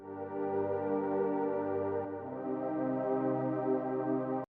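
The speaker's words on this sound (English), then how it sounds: "I've chosen for a backgroundy saw pad" Soft synthesizer saw-wave pad with a low cut holding sustained chords, shifting to a new chord midway, smooth and even throughout, playing alone for a few seconds before cutting off abruptly.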